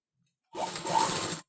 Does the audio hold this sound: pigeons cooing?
no